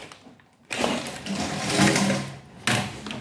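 A Dyson V11 cordless vacuum cleaner starts with an abrupt whir after a quiet moment. It runs at a high, steady pitch with slight swells as it pulls in dirt, then surges again near the end. It is heard up close and without talk.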